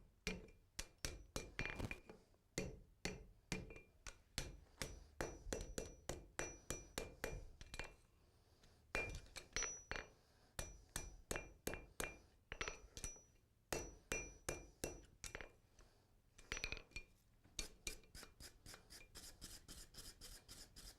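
A blacksmith hammers a horseshoe on an anvil in rapid bursts of sharp, ringing metallic strikes, with short pauses between the runs of blows, close and clear with no talking.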